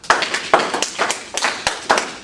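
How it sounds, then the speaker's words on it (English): Students in an English class clap several quick rounds of sharp claps, close and fairly loud, with a steady rhythm and no talk over them. "clap if you circled Cinderella"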